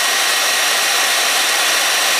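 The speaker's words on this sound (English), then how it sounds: "The hair dryer is still running." A hair dryer roars steadily at close range, a loud continuous broadband whoosh with no pauses or voices.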